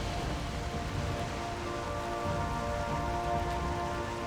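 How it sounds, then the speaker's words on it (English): Steady rain falls in the Valheim video game world as a dense, even wash of patter that continues without a break at moderate loudness. No one speaks. "Of course, it's raining again."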